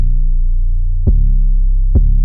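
A layered 808 bass paired with a smaller side 808 from a producer's drum kit rumbles in a continuous heavy low tone, retriggered twice by sharp, punchy attacks, loud and close with no voices.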